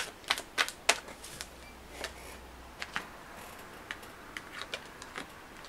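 Tarot cards being shuffled and pulled from the deck, a string of quick, light ticking snaps and soft slaps, irregularly spaced, close and fairly quiet, with no talk.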